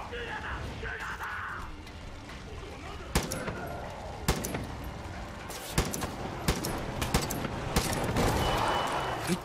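Sniper rifle shots in Far Cry 5, several sharp isolated cracks spaced a second or two apart over a murky game background, with someone talking at times.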